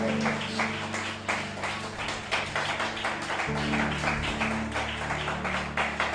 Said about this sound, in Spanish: Alguien dele un aplauso a Dios en esta mañana.